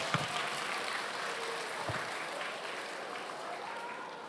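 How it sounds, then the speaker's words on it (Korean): A seated audience at a school teacher-and-student question festival in Gyeongbuk applauds a student presentation team: a steady, even wash of many hands clapping at moderate distance, holding level throughout with no talk over it. "형곡 AS 팀에게 다시 한번 박수 부탁드리겠습니다."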